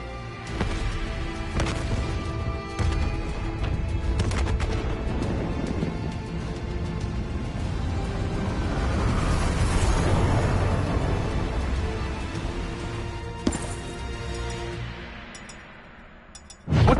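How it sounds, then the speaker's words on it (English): Explosions and gunfire in Call of Duty: Black Ops 3 roll through a long stretch of heavy booms, crashes and sharp impacts over a rumbling low bed, building in the middle and ending with a loud blast. "we have multiple explosions across the facility"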